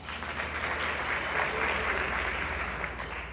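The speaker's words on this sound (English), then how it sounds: "So again, Women's Council, give yourselves a round of applause." Steady, sustained applause from a luncheon audience at a Women's Council of Realtors winter meeting, a dense wash of clapping that holds evenly throughout at moderate distance.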